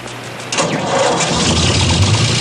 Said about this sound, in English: is that old tractor you drove in the Pennzoil commercial still running?